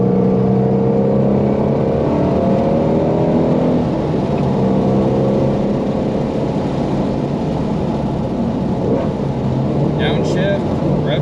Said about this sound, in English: Downshift, rev match, tip into the corner, neutral to the corner, and as you come out, open that throttle up.